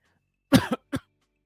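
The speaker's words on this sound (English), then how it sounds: "Choked on my water. Okay, somehow finished coughing." A short burst of coughing after choking on water, two or three harsh, close coughs in quick succession, then quiet.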